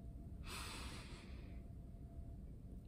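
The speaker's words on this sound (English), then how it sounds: "Will you try a couple deep breaths with me?" A single deep breath with a rushing inhale or exhale lasting about a second, close and fairly soft, followed by quiet with no talking.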